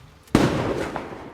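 A single sharp gunshot cracks out loud and close during a film gun battle, followed by a lingering rumbling echo and a fainter second pop.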